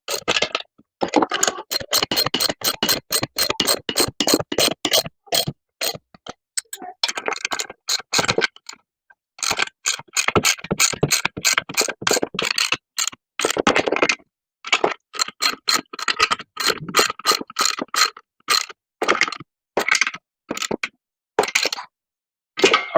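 A ratchet wrench tightens 17 mm bolts on a workout bench, giving long runs of quick, sharp clicks in steady rhythm that pause now and then, close and clear with no talk.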